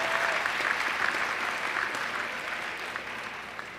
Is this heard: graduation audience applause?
yes